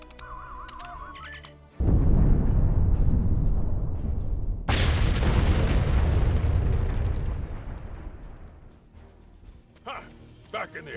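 Explosion in the Star Trek Online game: a loud, sustained rumbling blast kicks in suddenly, then a second, brighter burst follows and decays slowly over several seconds, with game effects and faint voices around it.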